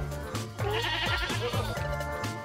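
A pet goat kept for a year and tied up in a garden before the Qurban sacrifice bleats loudly and close, letting out a wavering, drawn-out cry.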